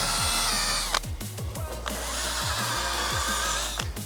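A power sander works a plastic headlight lens with a sanding disc, a steady whirring grind with several brief drops and restarts as the tool eases off and bites again, loud and close with no talk.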